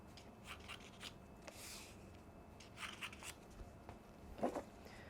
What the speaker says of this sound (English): So we're going to cut 3 pieces roughly the same.